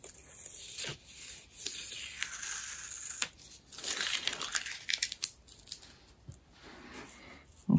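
Masking tape peeled off a watercolour card of a painted fish: a run of crinkly, tearing rips and crackles at close range, uneven in rhythm, with no talking.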